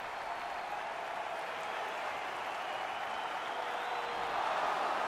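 A hockey arena crowd in the NHL 21 video game applauds in a broad, steady wash of clapping and cheering that holds at an even level throughout and swells slightly near the end.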